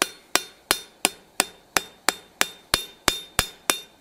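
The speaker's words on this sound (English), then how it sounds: "this a little bit by hammering on that area that we've previously folded over" Forged steel spatula hammered on an anvil: twelve sharp, ringing metallic strikes in a steady rhythm about a third of a second apart, close and loud with no talking.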